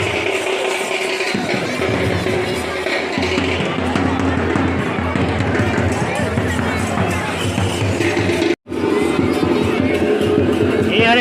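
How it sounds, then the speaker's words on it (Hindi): Dense crowd hubbub fills a busy main market square during Krishna Janmashtami celebrations, a continuous loud babble of many voices close around, briefly cutting out once near the end before resuming. "देख सकते हो इतना भीड़ है यहाँ पे"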